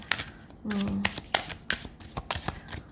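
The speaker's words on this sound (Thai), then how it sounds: "เวลาสับเนี่ย เวลากรีดไพ่ก็อาจจะ ยากนิดนึงเพราะไพ่เยอะ แล้วก็หนาอยู่" A thick Hermit Tarot oracle deck is shuffled by hand, giving several short papery riffles and flicks in quick, uneven bursts, close and fairly quiet, with one brief hum-like tone partway through.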